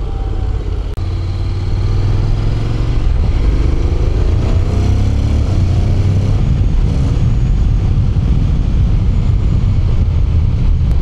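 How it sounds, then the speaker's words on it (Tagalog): Heavy wind buffets the microphone while riding a Honda X-ADV 745cc motorcycle, a loud, constant roar with the engine droning underneath throughout. "Hangin."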